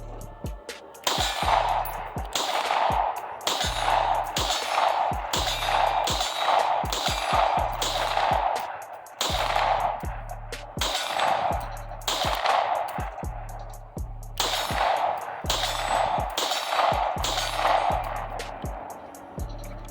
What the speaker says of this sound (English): Let's go ahead and get some POV shooting.